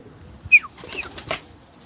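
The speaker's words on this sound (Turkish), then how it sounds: "Bak o kuş kalktı" A pigeon bursts into flight among a flock at a loft, a short sharp flurry of wing claps followed by a few softer flaps and faint bird sounds, fairly close.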